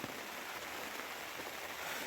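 Steady rain pattering on a tent during a camping trip near Trabzon, a dense continuous hiss of drops close overhead with no talk.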